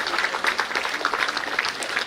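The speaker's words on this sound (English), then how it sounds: "APCA Entry Grade Officers, a big round of applause." Audience applause for newly appointed APPSCCE entry grade officers at a felicitation ceremony; loud, dense clapping from a crowd, steady and continuous throughout with individual claps audible near the front.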